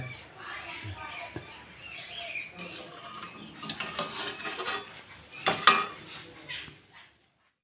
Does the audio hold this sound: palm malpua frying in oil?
yes